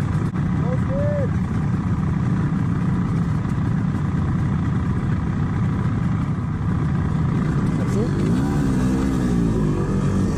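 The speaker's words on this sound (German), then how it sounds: "dass ihr diese 2-Taktmotorräder hier in voller Aktion erleben könnt" Forty-year-old MZ two-stroke vintage motorcycles of about 20 hp ride on a mountain tour, their engines droning loud and steady throughout, with a rising pitch sweep near the end.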